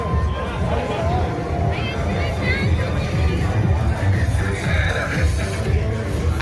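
The crowd at the Freedom March in downtown Ottawa makes a continuous, dense hubbub of many voices chattering and milling about, with a steady outdoor rumble underneath.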